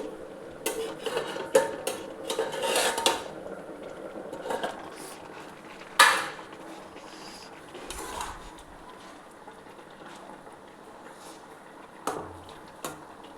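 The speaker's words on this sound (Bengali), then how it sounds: "দেখুন, একবার ঢাকাটা খুলে একবার দেখে নিচ্ছি।" A lid comes off a cooking pot of potatoes and radish simmering in water, with metallic clinks and scrapes of cookware close by and a soft bubbling beneath, then quieter stretches.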